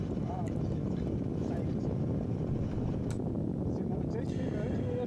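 Steady, broadband drone of an Arcus-M motor glider's engine running in flight over the Swiss Alps, loud and constant, mixed with wind rush throughout.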